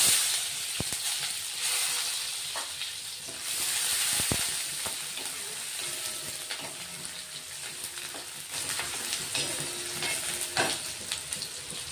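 Mustard seeds, cumin, curry leaves and onion frying in hot oil in a pan, a steady loud sizzle and hiss with occasional crackles and stirring scrapes, continuous throughout with no talk.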